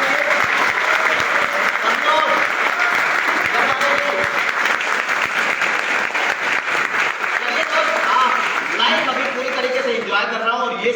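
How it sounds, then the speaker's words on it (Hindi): A live audience claps loudly and continuously at a motivational talk, dense sustained applause that thins out near the end as a few voices come through. "एक बार ताली बजा सकते हैं आप"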